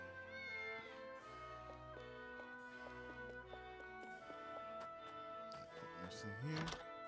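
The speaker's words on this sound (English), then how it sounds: "Oh, there's a cat." A cat in the video game Triangle Strategy gives a few clear meows over background music, and someone talks across the clip.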